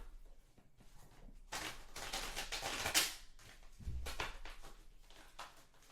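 Tarot cards being shuffled by hand, a close papery riffle and flutter in bursts that swell and fade, with a soft thump partway through and no voices.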